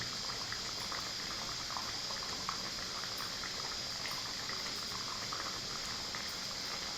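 Egg drop gravy simmering in a pot over a medium flame, a steady soft bubbling hiss with faint pops, constant and close, no voices.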